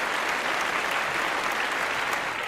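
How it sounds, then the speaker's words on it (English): A crowd claps for a caller who has just left an open-line show, a short burst of dense, even applause at a steady level with no pause. "We got to give him a round of applause."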